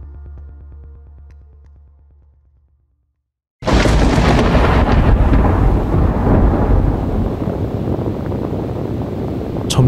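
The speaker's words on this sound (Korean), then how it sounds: "1996년 5월 10일 강력한 폭풍이 에베레스트를 집어삼키기 시작했습니다." A violent storm on Mount Everest: after a quieter stretch and a brief silence, a loud, continuous roar of wind and rumbling thunder sets in and holds steady at full strength to the end, with no talking.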